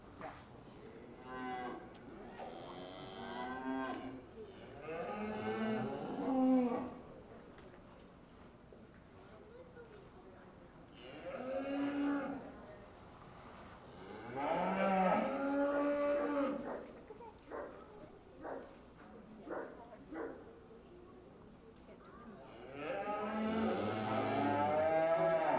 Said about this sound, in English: I think the young ladies brought definitely a great set of Shorthorn cattle to the show today